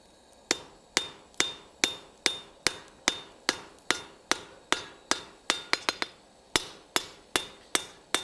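Hammer blows forging hot metal for a sled part in winter, a loud close steady rhythm of about twenty ringing strikes, with a brief quicker flurry midway, each impact sharp with a bright metallic ring and no talk.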